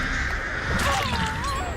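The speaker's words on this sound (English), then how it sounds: "Now she's infected with birds." Crows caw in the horror video game Dead by Daylight, a harsh call rising over loud, dense game ambience and clatter, fairly near and partly masked.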